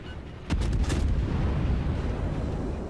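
Warship guns firing in World of Warships: a sudden heavy artillery blast followed by a cluster of sharp booming reports, then a long rumbling, low-heavy decay, loud and without speech.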